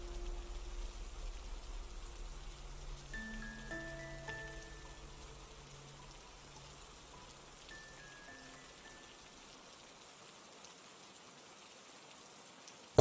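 Rain pours in an empty lot as a soft hiss, fading gradually over the clip beneath sparse, gentle tonal notes.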